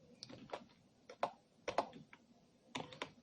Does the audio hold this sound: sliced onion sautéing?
no